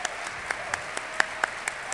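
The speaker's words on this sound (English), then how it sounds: "If we could just give these guys a round of applause." Applause from the audience at the DrupalCon Portland 2013 closing session: a steady, fairly distant patter of clapping with a few sharper individual claps standing out.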